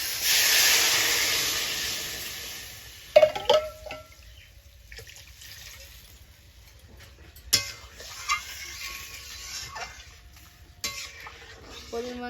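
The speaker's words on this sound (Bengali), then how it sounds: "পরিমাণ মতো জল দিয়ে দিছি" Water poured into a wok of fried dal hits the hot pan with a loud, steady sizzling hiss for about three seconds, then settles to quiet bubbling with a few soft clinks of stirring.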